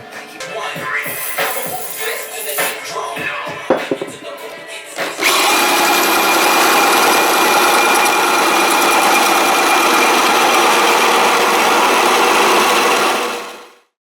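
A few clattering knocks, then a failing power drill whirs steadily with a high motor whine for several seconds before winding down to silence, during suspension work on a Suzuki Samurai SJ413.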